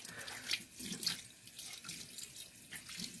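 Tap water runs steadily into a sink while a face mask is rinsed, with soft splashes and drips at close range and no talking.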